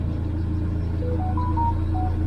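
Morris Minor engine idling while it warms up, a steady low rumble close by with a faint rising whine above it, no voices.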